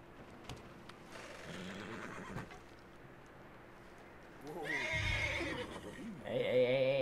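A horse in Red Dead Redemption 2 whinnies loudly and close near the end, with a shorter neigh just before, over steady game ambience and faint hoof sounds.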